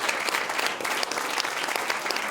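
An audience at a French political debate show applauds the caricatures, a dense, steady clapping throughout with no break.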